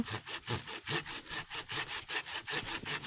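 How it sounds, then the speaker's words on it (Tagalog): A hand saw cuts through a calamansi tree trunk on a farm in steady, rhythmic back-and-forth strokes, loud and close, with no talking. "pumuputol naglalagari"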